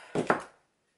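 Double-sided tape is snipped in two during scrapbooking work, giving one short, close, crisp cut with a brief second snap right after, then silence.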